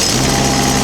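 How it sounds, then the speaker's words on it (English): The diesel engine of a trommel runs steadily, a brief and loud, dense mechanical rattle with no pauses. "So we've got the diesel engine here."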